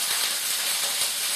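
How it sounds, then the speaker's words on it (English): Food sizzles steadily in a very hot wok just after being added, a loud continuous hiss with no talking. "that sizzling, you know, that the wok is really hot."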